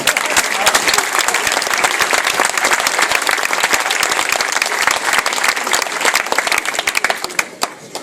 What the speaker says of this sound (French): ils vont vous applaudir